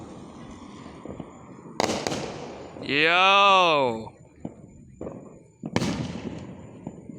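Fireworks bursting during a 4th of July show, with sharp booms around two seconds and near six seconds between a long whistling rise, close and loud, while people shout excitedly over them.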